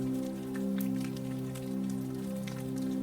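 Steady rain falling, a soft continuous patter of drops with scattered brighter taps over a low background hum, heard alone without voices.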